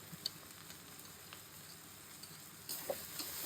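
Ginger, garlic and cumin sizzle faintly in hot oil for a bottle gourd and prawn curry, a low steady frying hiss with scattered tiny crackles and a slight rise near the end.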